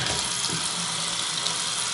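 Water runs steadily from a bathroom tap in an apartment, a continuous close hiss and splash with no talking.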